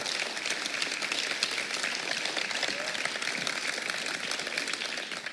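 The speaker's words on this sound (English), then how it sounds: "Huge round of applause" An audience at a World Boxing Super Series cruiserweight draw ceremony applauds the boxers with a dense, steady wash of clapping that holds evenly throughout.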